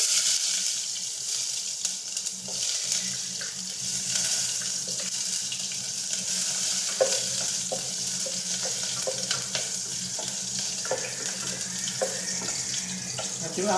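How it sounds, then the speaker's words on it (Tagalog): Ginger sizzles in hot cooking oil in a pan, a steady, loud broadband hiss throughout, with occasional stirring scrapes and taps on top. "mainit na po yung ating mantika. Kaya ano na po natin yung ating mga igigisa. Unahin po natin yung ating luya."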